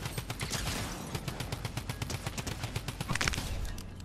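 A drum gun fires in a shooter game with rapid, evenly spaced bursts of shots, loud and close, rattling continuously for several seconds alongside other gunfire.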